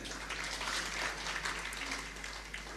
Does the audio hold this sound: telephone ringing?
no